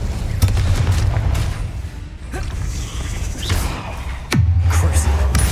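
The Incendio fire spell is cast in Hogwarts Legacy, with booming whooshes and a deep thud over a low rumbling game soundscape, including one sharp falling blast near the end.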